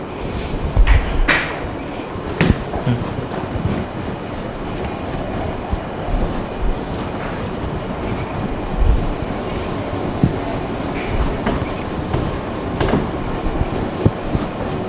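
Classroom board being rubbed clean during an engineering lecture, a continuous scrubbing and rubbing sound that runs throughout, with occasional knocks and bumps mixed in.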